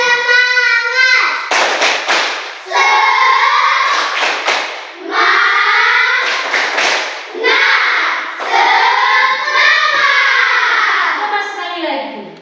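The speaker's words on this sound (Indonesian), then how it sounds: "Ibu akan mengajak kita dulu bertepuk semangat" A classroom of Indonesian schoolchildren chants a rhythmic spirit cheer, clapping in time between the shouted phrases. The voices ring loud and close in several bursts.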